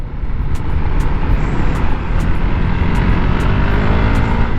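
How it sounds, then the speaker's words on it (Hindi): A motorcycle with its dB killer removed gives off a loud, continuous, rough engine roar close to the microphone, holding steady throughout without distinct rev peaks. "मतलब इट्स रेविंग बट बाइक वैसे आगे नहीं बढ़ रही जैसे आगे बढ़नी चाहिए"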